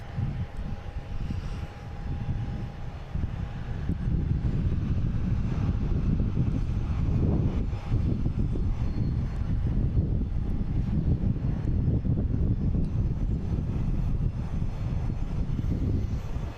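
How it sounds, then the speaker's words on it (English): An American Airlines Embraer E175 jet arrives at Boston Logan, its engine roar a steady, heavy rumble that swells and holds over wind noise on a Sunday afternoon. "Next arrives American Airlines coming from Syracuse, flight 4780 and E175."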